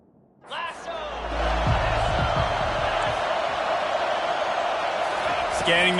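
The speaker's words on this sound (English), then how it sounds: "This crowd bringing the energy and noise." Football stadium crowd roars loudly and steadily during a defensive timeout, a broad wash of cheering and noise with a few thumps near the start.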